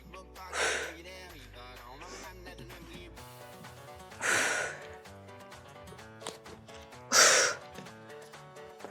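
Rhythmic heavy breathing in a strength workout: three strong, close exhales spaced roughly three seconds apart, each a short breathy burst, over quiet background music.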